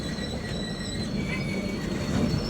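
A crowded local train from Titwala rolls steadily into a station, its continuous rumble and faint wheel squeal filling the scene with no clear voices on top.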